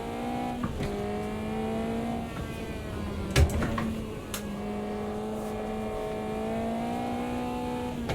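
A Caterham race car engine in the racing game Automobilista 2 revs through rising sweeps with brief drops at gear changes. There is a sharp knock partway through, and no one talks over the steady engine drone.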